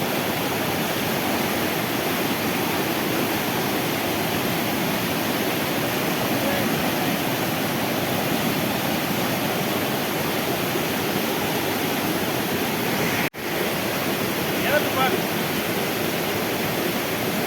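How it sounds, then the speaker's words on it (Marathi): A swollen monsoon stream rushes in a continuous, loud, broadband roar through green countryside in Konkan, steady for the whole stretch with a brief dip near the end and no voices. "तिला पाणी बघू शकता किती आलाय हा पाणी अजून वर येतं"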